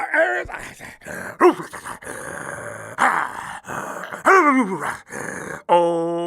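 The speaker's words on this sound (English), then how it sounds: "It's my dog." A pet dog grumbles and growls in several short, uneven bursts, close and fairly loud, with groaning, whimpering tones between them and a sharper yelp at the end.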